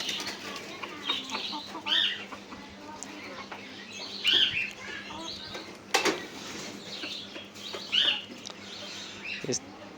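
Layer hens cluck in a backyard, with soft, repeated clucks and a few louder bursts every couple of seconds, close by, along with faint chirps and a voice in the background.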